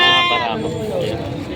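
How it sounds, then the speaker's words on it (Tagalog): A goat bleats at a livestock market in Padre Garcia, Batangas: one drawn-out, wavering cry up close at the start, fading into a steady background of crowd murmur and voices. "Mga pangkatay ng kambing, mga bara ako."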